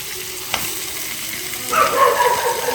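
Fish sizzles and crackles as it fries in a hot pan, the frying growing louder and busier toward the end, with a faint clatter early on.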